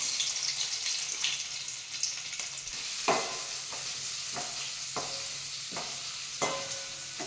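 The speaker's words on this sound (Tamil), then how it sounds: "எண்ணெய் காஞ்ச உடனே கடுகு போடலாம். வெங்காயம் தட்டி வச்ச பூண்டு போடணும்." Mustard seeds, onion and crushed garlic frying in hot oil in a pan while cassava fry is being made, a steady sizzle with several sharp crackles and stirring scrapes, close and continuous, no talking.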